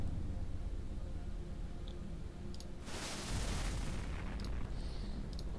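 A single artillery shot booms out from the video game Battle Isle: Der Andosia Konflikt, a loud burst over a low steady hum, with faint clicks around it.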